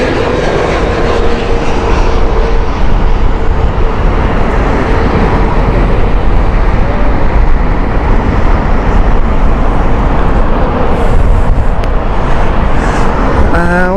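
British Airways A320 Neo roars steadily at Heathrow Airport in heavy winds, a loud sustained jet engine rumble mixed with gusty wind noise throughout.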